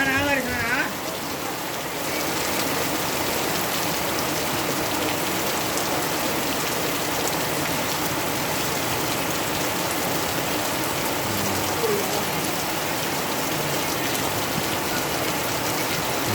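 Rain falls steadily in Katputli, Jaipur district, Rajasthan, a constant close hiss of drops on surfaces that holds at an even level throughout.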